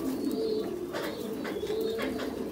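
Pigeons on a pigeon farm coo steadily and fairly close, with soft overlapping calls and no speech.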